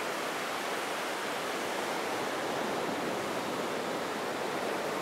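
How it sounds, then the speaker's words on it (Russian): Surf on Dikwella Beach in Sri Lanka, a wide palm-lined shore, gives a steady, dense wash of breaking waves that holds even and unbroken throughout with no voices. "мы на Диквелла Бич. Покажу вам пляж."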